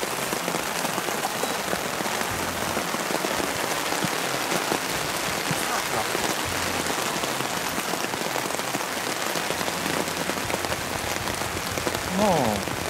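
Heavy downpour drumming steadily and loudly on surfaces at a carp-fishing spot, a dense unbroken hiss throughout with no voices.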